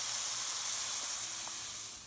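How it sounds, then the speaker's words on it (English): Burger patties sizzling on a hot griddle, a continuous bright hiss of frying fat that stays steady and close before easing off slightly at the end, with no voices. "look at that sexy sizzle action"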